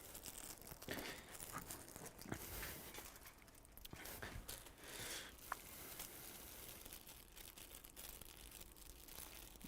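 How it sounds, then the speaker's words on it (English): Taped-up packages are torn open at close range, with irregular crinkling, rustling and ripping of tape and packaging over several seconds and no voices. "these are a pain to open because they're taped up"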